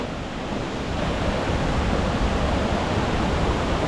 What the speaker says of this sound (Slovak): Tu ho máme, ten vodopád.